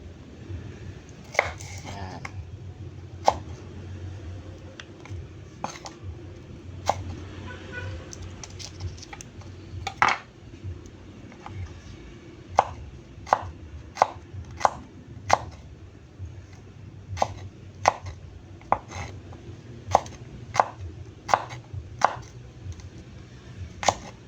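Onions being chopped on a cutting board while cooking sapsoy, a string of sharp knife taps in uneven rhythm, close and fairly quiet, with faint room noise and occasional soft talk underneath.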